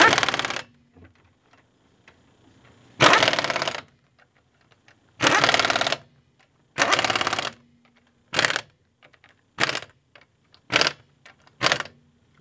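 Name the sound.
tightening wheel lug nuts on Ford Focus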